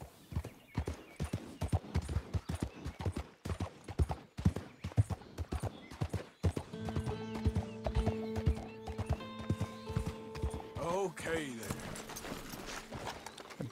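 Hooves clip-clop in a quick, steady rhythm in Red Dead Redemption 2, then a horse whinnies loudly, with musical tones and background sounds joining partway through.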